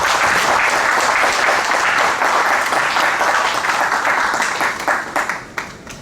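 Audience applause welcoming guests at a business school leadership talk, loud sustained clapping from a large crowd filling the room, thinning into scattered claps near the end.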